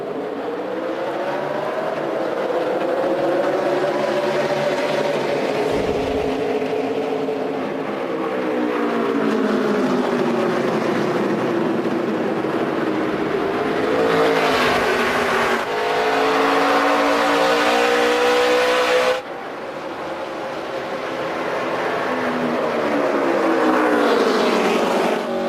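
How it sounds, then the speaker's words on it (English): NASCAR race cars restarting in the 2012 F.W. Webb 200, led by two Dodges side by side, a loud sustained engine roar that rises and falls as the pack accelerates and sweeps past, with no talk. "There are 18 cars on the lead lap, and it is Roger Penske's 2 Dodges side by side in the front row."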